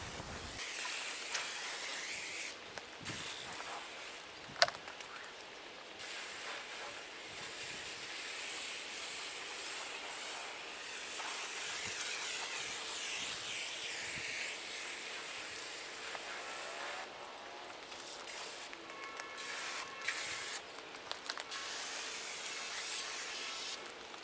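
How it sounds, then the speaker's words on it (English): Steady hissing spray from a foam soap gun covering a 2019 Silverado pickup runs almost continuously, a broad pressurized whoosh with brief dips and pauses, close and fairly loud. "I take my Blackfire soap gun. I go ahead and spray the entire vehicle"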